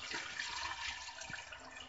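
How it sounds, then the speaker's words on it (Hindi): Water pours steadily into a pot of beef and potato curry, a continuous rushing splash that fills the short moment at close range with no talking. "अब हम इसमें पानी डाल देंगे"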